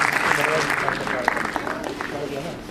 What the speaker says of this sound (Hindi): तमाम पदाधिकारियों के लिए एक बार पुनः जोरदार अभिनंदन तालियों के साथ।